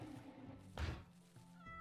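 Cats meowing in the colony-building game Rimworld, a quiet short meow around a soft thunk amid low background game noise.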